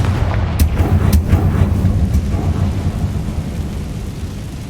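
The Confringo blasting spell goes off in Hogwarts Legacy, a heavy low rumbling boom with a few sharp cracks early on, loud and close, then a long rolling decay without speech.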